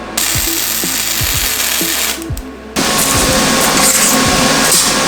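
Flux core welding tacks with 030 wire and no shielding gas on custom tail light guard parts, a harsh crackling buzz in two bursts separated by a short pause, loud and close.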